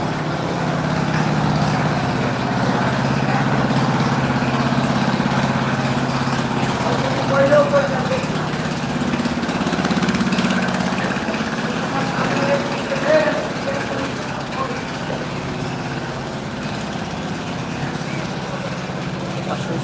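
A large passenger launch bound for Patuakhali sits at Sadarghat in Dhaka, its engine holding a steady, low idling drone throughout, with people talking in the busy surroundings.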